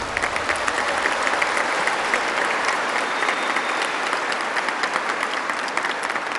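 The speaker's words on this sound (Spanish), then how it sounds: "Un aplauso para ellos." A crowd at an outdoor political event in Puebla, Mexico, breaks into sustained, dense applause, many hands clapping steadily and loudly for several seconds without pause.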